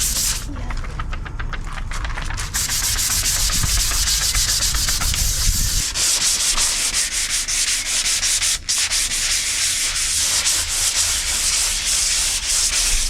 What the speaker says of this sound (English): Do you want me to get sanding with you?